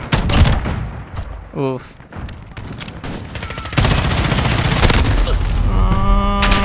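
Rapid gunfire from a Call of Duty: Modern Warfare match, loud bursts and sustained automatic fire under brief player speech, with a groan-like exclamation and steady battle noise throughout.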